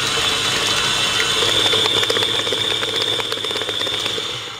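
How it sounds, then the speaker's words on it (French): An electric hand mixer whips set chocolate into mousse at third speed, a steady high-pitched motor whine with rattling beaters that tails off at the end, close by with no talk. "le chocolat a figé et on va monter ça au batteur"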